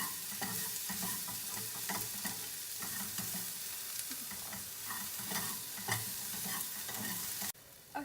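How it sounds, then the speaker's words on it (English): Onions and green peppers sizzle steadily in a frying pan while a utensil stirs them, with repeated scraping strokes across the whole stretch and no talking. "I'm just going to start stirring this up until the onions are a little bit translucent and our green peppers are a little bit soft"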